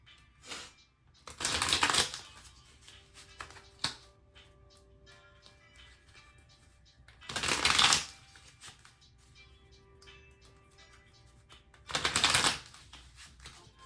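Tarot or oracle cards are shuffled in three separate loud bursts of riffling and flapping, with quiet small ticks and handling noises between them and no talking.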